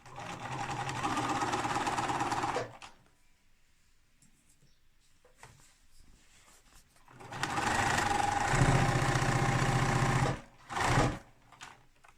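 A sewing machine stitches a tote bag in two bursts of rapid mechanical stitching, whirring loudly for a few seconds, pausing in near silence, then stitching again.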